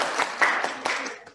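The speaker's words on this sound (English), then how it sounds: "I'm waiting for the applause." Brief applause from a church congregation during a Holy Communion service, a short burst of scattered clapping that fades out within a second or so.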